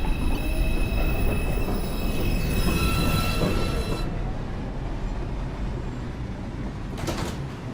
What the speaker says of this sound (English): Express 2, train. Approaching the station, please stand away from the platform edge.